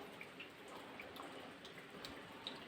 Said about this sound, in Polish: Pada deszcz od dłuższego czasu.